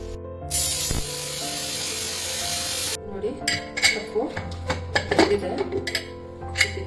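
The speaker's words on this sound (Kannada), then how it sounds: "ಸ್ಟವ್ ಆಫ್ ಮಾಡಿಕೊಂಡು ಆಮೇಲೆ ಮಿಕ್ಸಿಗೆ ಹಾಕ್ಕೊಳ್ಳೋಣ" A kitchen mixer grinder whirs loudly at the start, grinding fried red chillies and spices for a village-style Kannada lentil broth, then cuts off to scattered clinks and a voice talking.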